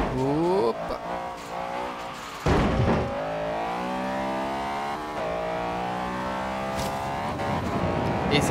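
A Honda Civic races in Forza Horizon 3, its engine revving hard with repeated upward pitch sweeps at gear changes, loud and continuous with brief tire squeal.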